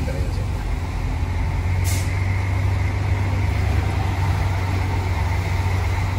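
An old bus with a classic-style front rumbles on a street in Paraguay, a steady loud low engine drone with a brief hiss of air release, filling the whole stretch without talk.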